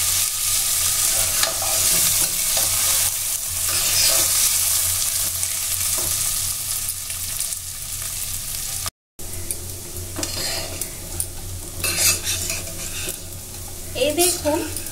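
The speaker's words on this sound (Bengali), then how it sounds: "চালটাকে আমি 2 মিনিট ভেজে নিব।" Uncooked rice stir-fried in hot oil for veg fried rice, with a continuous loud sizzle and frequent scraping stirs of a spatula in the pan, no talking.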